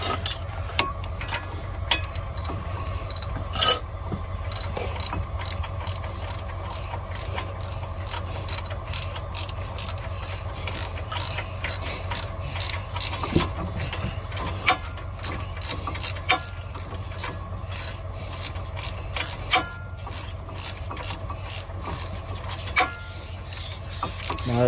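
A ratchet tightens the front brake bolts on a 2010 Ford Escape Hybrid, with steady mechanical clicking and ratcheting that runs close and fairly loud throughout, over a low constant hum.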